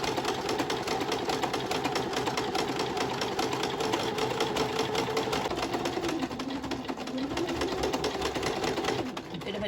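A sewing machine stitching a double row along a fabric journal cover runs at a fast, steady rhythmic whir close by, then slows briefly near the end before stopping.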